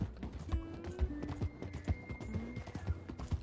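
A horse's hooves clip-clop in a steady trotting rhythm in Red Dead Redemption, close and distinct over a soft ambient bed.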